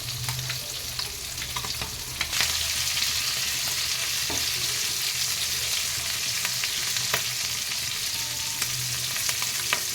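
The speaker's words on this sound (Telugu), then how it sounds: "కరివేపాకుతో ఫిష్ ఫ్రై అవుతుంటే చాలా బాగుంటుందండి" Fish fries with curry leaves in a pan, a continuous loud sizzle with occasional crackles and pops, and a stirring or scraping clatter shortly into the frying.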